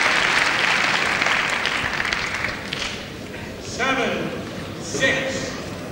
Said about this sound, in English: A big round of applause for a fantastic rally though.